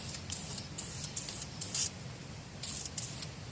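Aerosol spray paint being applied to a push mower being overhauled, short hissing bursts of the can repeated several times at close range, fairly quiet with no talk.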